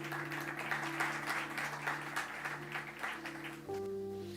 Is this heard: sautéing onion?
no